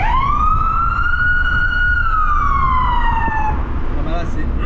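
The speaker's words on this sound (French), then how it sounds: "vous allez voir la sirène sous le pont là, comment ça va résonner" A Peugeot 206's siren wails in a long rising and falling sweep under a bridge, loud and close, with a reverberant ring over steady traffic rumble.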